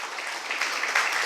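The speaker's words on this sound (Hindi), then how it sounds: "ताली नहीं बज रहा है? अच्छा से नहीं बज रहा है?" A short burst of steady clapping rises from a church congregation during a sermon, dense and moderately loud with no voices on top.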